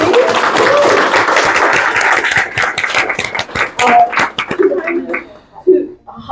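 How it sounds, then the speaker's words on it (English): Audience applause at the close of a keynote talk at a Fat Studies Day academic event: a loud, dense burst of clapping that thins into scattered individual claps toward the end, with some voices mixed in. "So applause for Emma and today"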